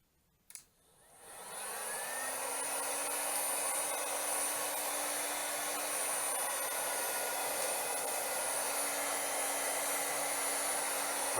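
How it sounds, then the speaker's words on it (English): After a click, a heat gun whirs into a steady, close, continuous blowing hiss as it warms the butt connectors on a repaired heavy-duty extension cord. "Looks like I might have to put the heat gun on here to get it over this little knot where the butt connectors are."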